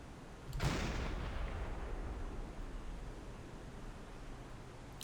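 A submarine's gun fires once in the naval video game Silent Hunter 5: a sharp, fairly faint report followed by a long, low rumbling decay that fades gradually under a hiss of background noise.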